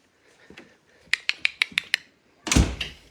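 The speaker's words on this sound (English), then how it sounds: "I'm going to open the door of the office to see if the new kitten is here." An office door opens with a quick series of sharp latch and handle clicks, followed by a louder thud and scrape as the door swings, close by with no talking.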